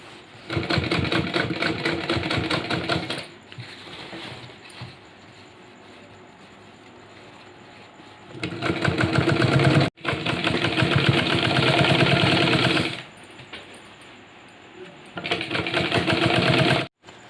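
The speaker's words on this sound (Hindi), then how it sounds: "तो चलिए इसी तरह से सिल लेते हैं।" A sewing machine stitches fabric for girls' pants, or jeggings, with a steady, fast mechanical whirr in three loud runs of a few seconds each, separated by quieter pauses.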